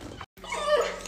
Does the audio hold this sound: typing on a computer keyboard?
no